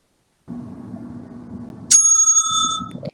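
One sharp, loud debate timekeeper's bell ring cuts through low room noise, then sustains and fades, with the background murmur returning as it dies.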